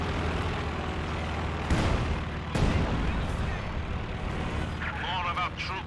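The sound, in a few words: gun barrage firing in video game Company of Heroes 2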